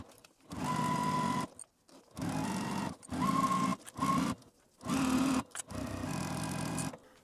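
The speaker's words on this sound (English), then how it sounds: "I'm going to run a stitch line right along the top of this to hold that top edge secure." A sewing machine stitching along the twice-folded top edge of fabric in five or six bursts of rapid mechanical whirring, each separated by a short pause. It is close and alone, with no talk.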